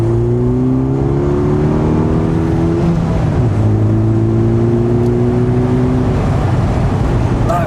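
A Morgan Plus Four's engine pulling hard from inside the car, a loud droning roar that climbs in pitch, drops briefly at a gear change, then rises again, continuous and with no talk.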